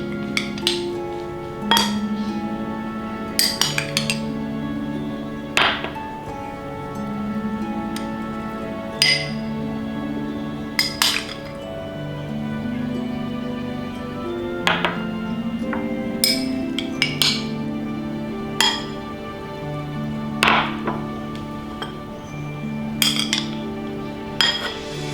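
Dishes and cutlery clink sharply and repeatedly as Kolo Mee noodles are plated, irregular bright chinks close by over a steady tonal background.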